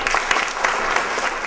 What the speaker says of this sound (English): how about a real warm applause?